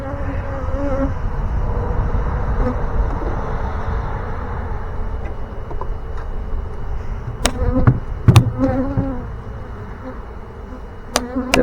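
A dense, steady buzz of a honey bee swarm being installed in a hive fills the air nearby, with a few sharp knocks and clunks near the end.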